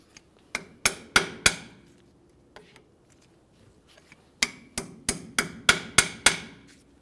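Sharp metallic hammer taps drive a cotter pin into the front axle nut of a 1998-2011 Ford Ranger during a brake job: four quick strikes, a lone light tap, then a rapid run of about seven crisp, close blows.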